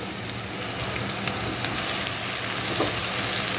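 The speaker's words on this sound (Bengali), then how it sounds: "প্রথমে এই আলু, পেঁয়াজ, কাঁচামরিচ একদম কড়া করে আমি ভেজে নিব।" Chopped potatoes, onion and green chilli frying in a pan, a steady dense sizzle and crackle running continuously, close and fairly loud with no talking.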